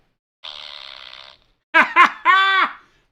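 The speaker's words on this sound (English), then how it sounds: "The fart sound works" A toy's fart sound effect plays three times in succession, with a couple of short blurts ending in a longer, squeaky, tonal raspberry. Before it comes a steady buzzing tone, and the whole thing sounds close and fairly loud.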